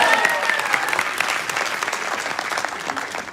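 Audience applause at a business team gathering, loud continuous clapping from a sizeable crowd that starts strong and gradually eases, with no speech over it.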